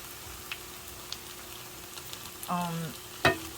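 Food fries in a pan until golden, a faint, even sizzle with a sharp scrape and a clink toward the end.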